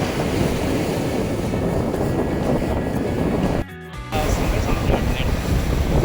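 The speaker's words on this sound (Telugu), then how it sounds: "చూడండి ఇది సముద్రం" Bay of Bengal surf rolling onto a beach near where the Penna river meets the sea in Nellore, a loud continuous roar of waves buffeted by wind on the microphone, broken briefly by a short dip.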